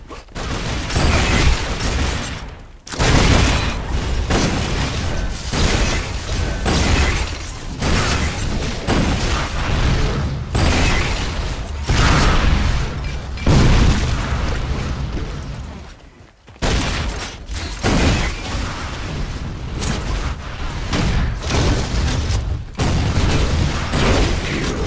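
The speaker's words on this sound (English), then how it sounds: "The flak cannon is pretty strong," Flak cannon fire in the arena shooter Unreal Tournament 4, repeated punchy blasts and bursts with mechanical clatter, dense and continuous with brief gaps.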